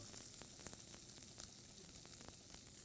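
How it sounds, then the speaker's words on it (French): Galloway beef browns in a hot pan with a faint, steady sizzle and scattered soft pops and crackles, heard alone without talk. "Parce que je veux que ça rissole, mais je veux aussi que ça libère un peu de gras."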